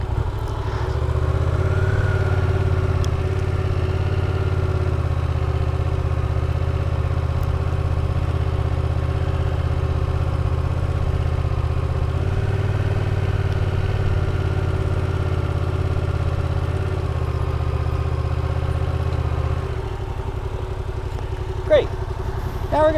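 A motorcycle engine runs steadily through a licence skills test, humming low and constant near the microphone while an instructor's voice talks over it, then eases off toward the end.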